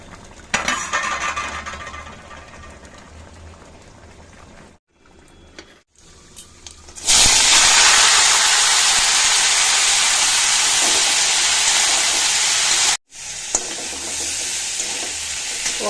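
Small fish sizzling loudly in a hot pan for a Bengali chorchori, with a quieter stretch of frying, a brief gap, then a burst of strong, steady hissing that carries on to the end.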